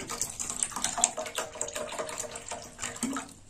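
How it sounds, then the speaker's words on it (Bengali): Plenty of water is poured over washed moong dal in a pot set on to boil for a Bengali mocha and moong dal dish. A steady, fairly soft splashing pour runs throughout. "বেশি করে জল দিয়ে দিলাম"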